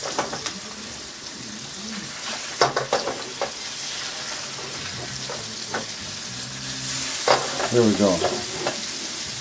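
Salmon fries in oil in a tilted pan, a bright continuous sizzle with occasional pops and crackles; someone speaks briefly over it.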